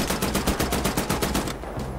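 Automatic rifle fire in Wolfenstein: The New Order rattles in a fast, even stream of loud, close shots for about a second and a half, then cuts off into a low ringing tail.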